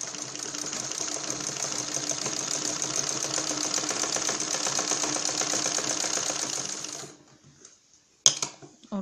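A sewing machine runs steadily for about seven seconds, sewing a second line of stitching along wide lace on a gathered blouse, then stops; a short knock or click follows near the end.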